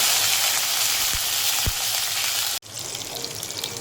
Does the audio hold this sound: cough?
no